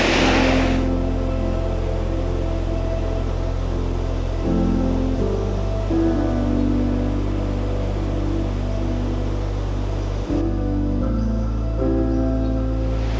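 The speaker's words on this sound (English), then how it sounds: "it is an epic waterfall. It is absolutely pumping right now with all the rain we've just had" Devil's Punchbowl waterfall on Arthur's Pass, New Zealand, swollen after heavy rain, giving a continuous loud broadband roar of falling water that stays steady throughout.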